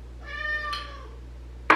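A house cat meows once in a drawn-out, clear call near the microphone in a kitchen, followed by a brief sharp clatter at the end.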